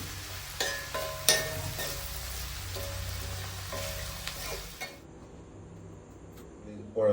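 A Kerala mezhukkupuratti vegetable stir-fry being stirred in a pan, soft sizzling under repeated spatula scrapes and clinks against the metal, with the frying dying away into near quiet after about five seconds.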